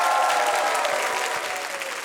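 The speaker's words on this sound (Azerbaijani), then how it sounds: "Bir daha ürəkdən alqışlayaq" An audience claps in a sustained burst of applause during a TV show performance, dense and continuous before tapering slightly toward the end.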